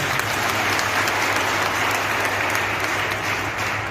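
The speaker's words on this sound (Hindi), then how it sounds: "के लिए ताली बजाइए।" An audience at a public talk by an IAS officer breaks into loud, sustained applause, many hands clapping steadily for several seconds with no speech on top.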